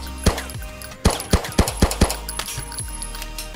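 Gunshots with impact effects ring out in a Unity first-person shooter game, a single shot followed after a pause by a rapid burst of sharp, loud reports that tail off into ringing.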